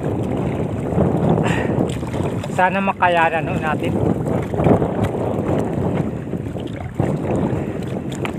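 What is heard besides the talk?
large waves and wind around a small fishing boat at sea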